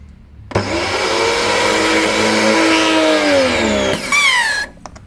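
An Ibell Wind55 car pressure washer motor starts with a thump and runs with a steady, loud electric whine for about three seconds, then cuts out with a descending whirr and a couple of clicks.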